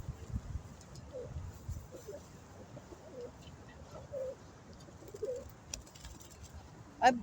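Birds at a dry watering spot try to bathe, with soft pigeon-like cooing and scattered chirps over rustling, mostly faint. A sharper call comes close at the very end.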